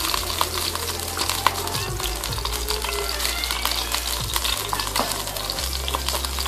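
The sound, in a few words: ghee tempering sizzling in pan for palada payasam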